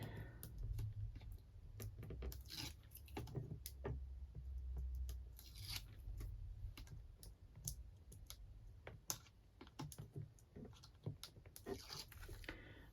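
Cardstock for a paper craft is trimmed with a sharp run of crisp clicks and snips, quick and irregular, close up and fairly quiet with no voices.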